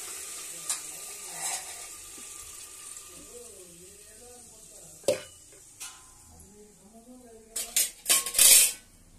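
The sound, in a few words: ground green chilli and onion paste frying in oil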